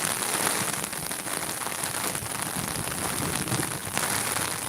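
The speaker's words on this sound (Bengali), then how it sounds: "বাংলাদেশের বৃষ্টি আমরা প্রায় সময় দেখানোর চেষ্টা করি" Heavy monsoon rain pours steadily in Sylhet, Bangladesh, during flooding near the Surma River, a dense, continuous hiss of drops on surfaces with no other sounds.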